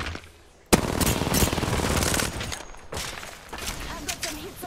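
Rapid automatic gunfire from the Apex Legends shooter game crackles loud and close in a dense burst lasting a couple of seconds, followed by scattered shots and game effects with a voice talking underneath.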